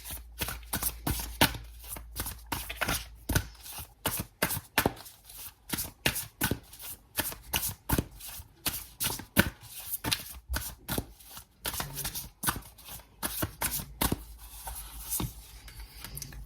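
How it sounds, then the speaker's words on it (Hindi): Tarot cards are shuffled in a steady run of quick riffles and slaps, close and clear, with no talking. "नाउ मैं यहाँ से भी कुछ कार्ड्स निकालती हूँ"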